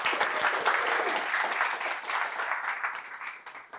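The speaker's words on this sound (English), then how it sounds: "So let's do a round of applause." An audience at a design engineering night applauds, a dense, steady burst of clapping from a crowd that holds strong and then gradually thins out.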